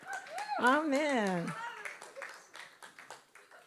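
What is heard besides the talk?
applause, congregation clapping in church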